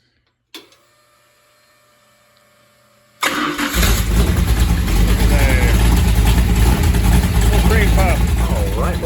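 A Mopar 400 big block V8 gives a brief click and pause, then cranks and fires into a loud, steady rumbling idle that carries on close by, with someone talking over it.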